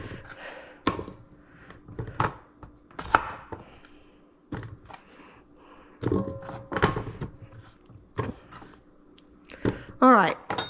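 A knife chopping potatoes on a cutting board in a home kitchen, irregular knocks and thunks in short runs with pauses between, close and fairly quiet.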